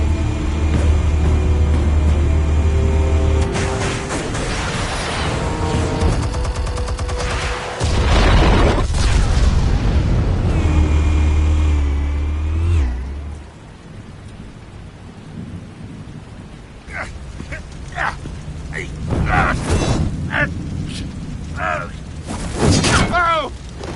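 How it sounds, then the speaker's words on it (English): Explosions detonating in Batman: The Telltale Series, heavy booming rumbles that roll and sustain for several seconds, then a quieter stretch followed by sharper crackling blasts and debris, loud and close. "Explosives armed. Fire when ready."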